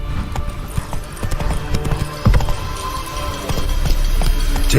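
Roach, the horse in The Witcher 3 video game, gallops with loud, close, rapid rhythmic hoofbeats that continue steadily throughout.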